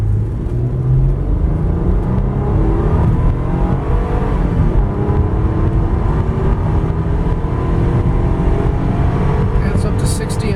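A 1998 Honda Accord EX V6 accelerates from a standstill up a hill at about three-quarter throttle, its engine a loud, continuous drone heard from inside the car that rises in pitch as it climbs.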